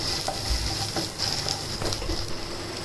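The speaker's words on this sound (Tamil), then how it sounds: "ஸோ ஒரு நல்லா லைட்டாக ப்ரௌன் ஆகிற வரைக்கும் நம்ம இந்த பூண்டு சாட்டே பண்ணிக்கலாம்" Garlic sautés in melted butter in a pan, with a close, continuous sizzle broken by the scrape and clatter of stirring.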